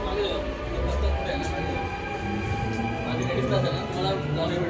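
A Dubai metro train rumbles steadily through an enclosed station, a continuous loud roar with squealing overtones and voices talking faintly beneath it.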